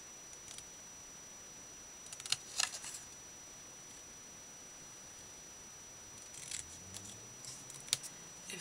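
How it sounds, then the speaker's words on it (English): Scissors snip paper scraps in short, crisp bursts of a few cuts each, spaced apart against a quiet room, close and faint. "I wonder if I cut this out."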